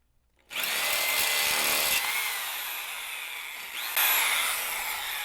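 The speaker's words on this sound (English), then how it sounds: "So I drilled the hole in the side." A power drill bores a half-inch hole in the side of a John Deere 1025R tractor for a rear camera mount. After a quiet start it revs up loud, grinds steadily, eases slightly, then surges again near the end.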